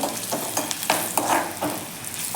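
Hing (asafoetida) and turmeric sizzle in hot oil for a tempering for horse gram (kulith) soup, a steady crackling fry with several sharper pops and stirring scrapes, close and alone with no voices.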